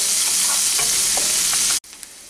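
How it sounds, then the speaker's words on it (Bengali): Chopped onion frying in a pan, a loud, dense sizzle with a few soft stirring scrapes, close up, stopping abruptly near the end to leave a quiet tail. "এবারে দিচ্ছি কুচানো পেঁয়াজ। পেঁয়াজটাকে হালকা বাদামি করে ভেজে নিচ্ছি।"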